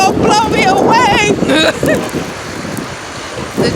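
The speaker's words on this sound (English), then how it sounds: "The wind is blowing. Feel like it's gonna blow me away." Strong wind in a snowstorm in Upper Manhattan, Harlem, New York City buffets the microphone in loud, continuous roaring gusts while a person talks over it.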